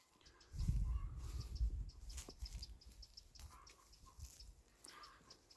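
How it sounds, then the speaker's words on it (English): Birds sing in a food forest garden in spring, faint chirps and tweets scattered through the quiet, with a louder low thump and rustle near the start. "Listen to the bird song."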